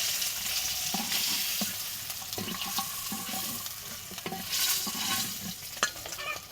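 Fish and potato pieces frying in hot oil give a continuous close sizzle, broken by irregular clinks and scrapes of a utensil lifting the pieces out.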